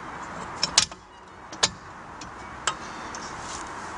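A few sharp metallic clicks and ratchet-like ticks as the handle of a Milenco compact wheel clamp is turned on a car wheel, spaced irregularly and close by over a quiet background.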